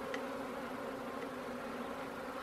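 Honeybees buzzing at a Warré hive as it is set back onto a clean new floor in February, a steady close drone with no voices.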